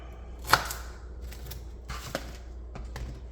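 Knife chopping the ends off lemongrass stalks on a board for Thai red curry: one sharp cut, then a few softer, scattered taps, close and fairly quiet.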